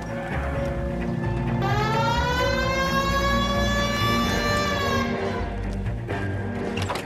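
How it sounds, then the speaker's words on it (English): A wailing 1940s police car siren in LA Noire rises and sweeps steadily for several seconds over a low rumble of engine and street noise, then cuts off. "Hit the siren."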